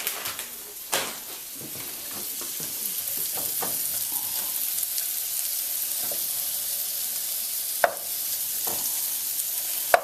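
Paneer fries with spices and turmeric in a pan, a continuous bright sizzle with occasional sharp clicks and scrapes of stirring, alone without talk.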